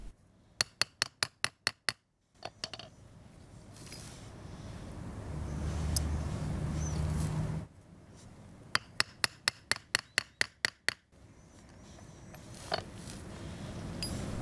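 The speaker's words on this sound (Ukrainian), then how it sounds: "І в нижній частині робимо вигин несильними ударами молотка." A small hammer lands light, quick taps on a metal pike-fishing spoon blank resting on a hemispherical form, in two rapid runs of close, ringing strikes separated by a low rumbling pause.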